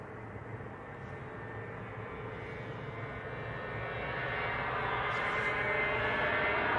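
A Jet2 airliner rolls down the runway for takeoff, its jet engine roar distant but steady and slowly growing louder.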